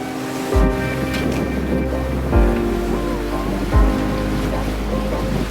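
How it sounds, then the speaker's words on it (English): Big ocean waves slosh and thump against a sailboat hull under a constant low engine drone, with a few heavier impacts spaced a second or so apart, crossing Bass Strait. "Man, we just had a couple of really big waves."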